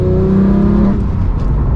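A 991.2 Porsche 911 GT3 accelerating hard from second gear on the road, a loud, steady engine roar with a rising tone heard from close by inside the car, with no talk.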